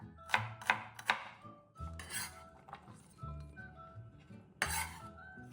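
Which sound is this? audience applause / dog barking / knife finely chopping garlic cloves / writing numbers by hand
knife finely chopping garlic cloves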